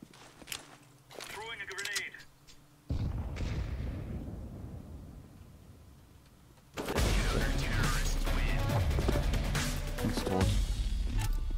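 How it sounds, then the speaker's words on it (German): Grenade blast in Counter-Strike: Global Offensive, heard as rumbling impacts and scattered gunfire that build to a loud, dense explosion in the second half, with people talking over the game sounds. "Throwing a grenade."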